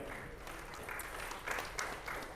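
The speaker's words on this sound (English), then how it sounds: "And a big round of applause for yourself for being a Tanzanian." Quiet, hall-filling applause from an audience at a trade and logistics business forum in Tanzania, with soft clapping that swells a few times in brief bursts.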